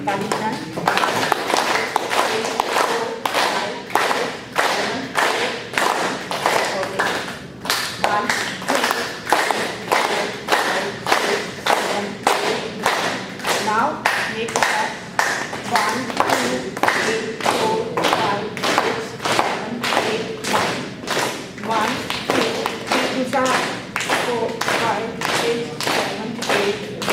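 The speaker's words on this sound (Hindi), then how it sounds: "तो आप 9 बार ताली बजाएं" Cupped-palm hand clapping during a laughing yoga group session, a long, steady series of evenly spaced, hollow, thumping claps, fairly loud and close, with only brief pauses.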